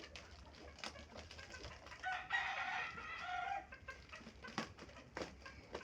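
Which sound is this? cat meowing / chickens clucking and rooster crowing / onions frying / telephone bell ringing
chickens clucking and rooster crowing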